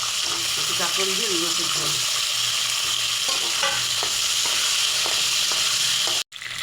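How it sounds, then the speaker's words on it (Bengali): Teasel gourd and potato fry in oil in a pan with onion and cumin, giving a steady close hiss and sizzle with stirring scrapes, while someone talks briefly over it. "এবার দেবো কাঁকরোলটা আর আলুটা ভেজে নেবো"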